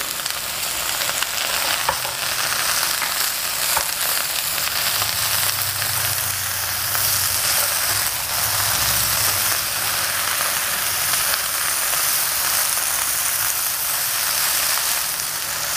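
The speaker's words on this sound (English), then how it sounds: "you want the spices to cook in the oil that is coating the vegetable" Okra frying in oil with ground coriander, sugar and spices, sizzling steadily and loudly for the whole stretch while being stirred now and then, with occasional scraping and clinks and no talking.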